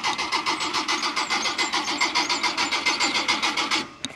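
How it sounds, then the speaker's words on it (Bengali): A car engine cranks over and over on a forest road in the Buxa jungle but fails to catch: about twenty rapid, evenly spaced starter pulses, close and loud, that stop abruptly near the end. "গাড়ি আর স্টার্ট হচ্ছে না"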